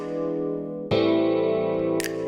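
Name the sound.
A minor seventh chord voicing played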